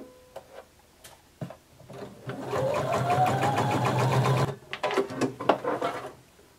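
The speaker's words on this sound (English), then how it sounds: "we're going to sew this together using a 7/8 of an inch seam allowance" Sewing machine stitching a 7/8-inch seam on a romper runs in a close, steady whirring burst lasting a couple of seconds, bracketed by short stop-start ticks and clicks of the needle.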